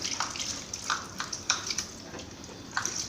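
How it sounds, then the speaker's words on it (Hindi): Water is poured generously over a car battery and its blackened terminals to wash them, a close, splashing trickle with irregular spattering bursts and drips, no voices. "डालो पानी,"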